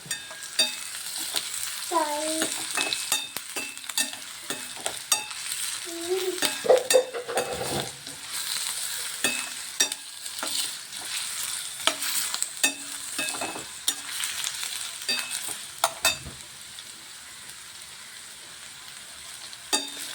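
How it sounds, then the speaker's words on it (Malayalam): Ginger crackles and sizzles in hot coconut-curry oil, with a spoon stirring and scraping the pan now and then, and a few brief rising tones near the start. "നമ്മുടെ ഇഞ്ചി ഒന്ന് പതിയെ മൂപ്പിച്ച് എടുക്കാം"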